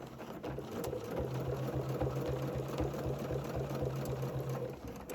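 A sewing machine stitching placemat fabric hums with a rapid, steady mechanical chatter, running continuously before it slows and stops near the end, with no speech over it.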